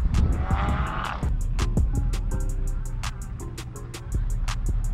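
Cars at a Honda meet on a race track roar by with engine revs, tire squeal and skids, layered over a continuous outdoor rumble and sharp repeated clicks, loud and close.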